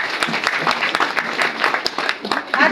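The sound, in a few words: meeting audience applauding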